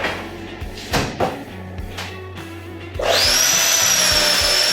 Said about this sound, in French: on a un petit bouillon que l'on va mixer